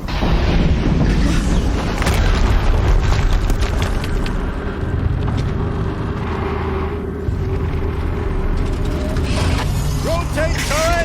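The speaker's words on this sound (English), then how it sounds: "Another explosion." Explosions and mechanical clatter in the Horizon Zero Dawn video game on PS4, a loud, dense rumbling battle din with deep booms and metallic ratcheting, continuous throughout with a voice speaking over it.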